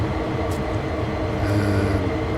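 A train hauled by an SD40-2 locomotive rumbles steadily close by, its brakes hissing and grinding with faint squeals, loud and continuous with no talking.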